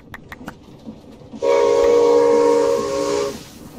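A steam train whistle sounds in the Minecraft Create mod: a few quick clicks, then one loud, sustained, hissing whistle lasting about two seconds before it cuts off.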